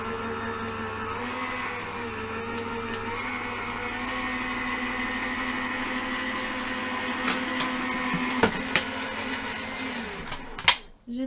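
An electric die-cutting machine for paper embellishments runs with a steady, even motorized whir for several seconds, then winds down and stops near the end, with a few light clicks and taps over the hum.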